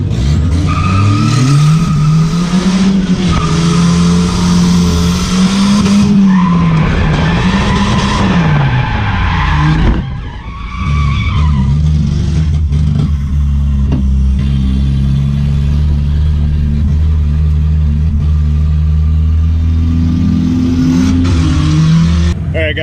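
A Volvo turbo wagon drifts at a grassroots drift competition, its engine revving loudly and continuously with rising and falling pitch and tire squeal mixed in, while a voice talks over parts of it.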